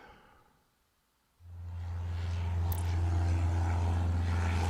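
An airplane takes off in the airport-control game Airport Madness: Time Machine, set in 1925-1928: after a brief hush, a steady, low propeller-engine drone starts abruptly and holds at moderate level, growing slightly fuller.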